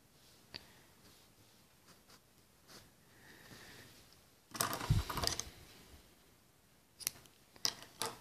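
Scissors snip knitting yarn after seaming a knitted poncho with mattress stitch: faint, quiet handling, then a brief close rustling cut burst midway and a few sharp snips near the end.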